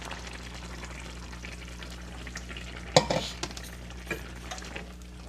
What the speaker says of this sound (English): We're going to stir that through.